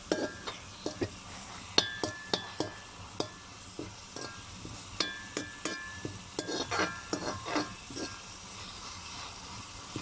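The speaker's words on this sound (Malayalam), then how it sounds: "ആ ചട്ടിയൊക്കെ ചൂടായി നമ്മുടെ മുളകൊക്കെ ഒന്ന് വഴലാൻ തുടങ്ങിയിട്ടുണ്ട്" Dried red chillies sizzle in a little coconut oil in a hot pan, with a soft steady hiss broken by repeated light scraping and clinking of a spoon stirring, close and moderately quiet, no talking.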